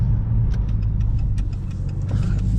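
A Dodge Charger SRT-8 heard from inside while driving, its engine a steady low rumble with a constant mid-pitched drone and faint interior ticks.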